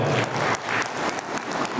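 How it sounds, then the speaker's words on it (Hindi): Audience applause at an alumni reunion meet, a brief, dense patter of many hands clapping in uneven waves, fairly close and with no voices over it. "इस बात के लिए भी जोरदार तालियां हों"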